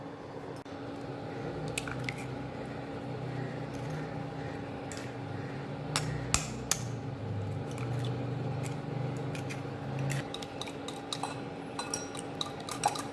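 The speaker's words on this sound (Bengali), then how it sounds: "ডিমটাকে খুব ভালো করে ফেটিয়ে নিতে হবে।" Eggs for caramel pudding being beaten in a bowl, an even, repetitive squishing whisk with occasional sharp clinks of utensil against the dish, steady and close in a quiet kitchen.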